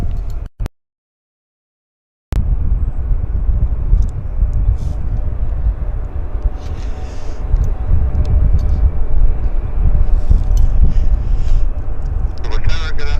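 A Porter Airlines airliner approaching Vancouver YVR Airport makes a steady, rising engine rumble after a brief dropout, growing louder toward the end with voices talking over it.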